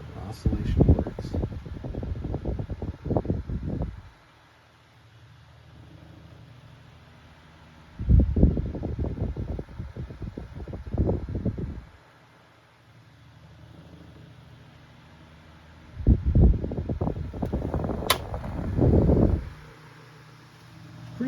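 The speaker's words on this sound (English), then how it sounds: "And for a 9-inch fan, it's pretty strong. Runs pretty fast. Moves a lot of air." A Kuo Horng 9-inch oscillating desk fan with a worn thrust washer runs at speed, giving a steady airy hum throughout while someone talks over it in several bursts.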